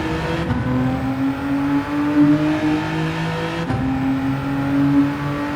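Genesis G70 GR4 race car at full throttle in Gran Turismo 7, engine droning loud and close as it pulls hard, with a quick gear change mid-way and rising pitch after.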